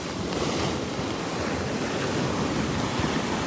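Ocean surf at Delnor-Wiggins beach on a calm morning: a steady, unbroken wash of gentle waves mixed with light wind noise on the microphone, continuous and fairly close with no voices.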